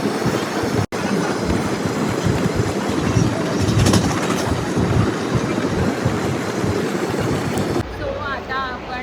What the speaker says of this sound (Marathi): सो आता आपण रत्नागिरी रेल्वे स्टेशनच्या इथे आहोत